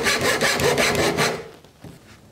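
Hand saw cutting relief cuts into wood for a portable deck chair, a quick series of rasping back-and-forth strokes, close and rhythmic, then stopping, with a faint knock after.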